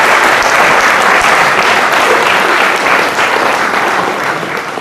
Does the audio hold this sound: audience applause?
yes